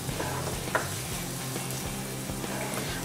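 Onion and garlic frying in white butter in a pan, giving a steady close sizzle with a few light stirring scrapes and no talk.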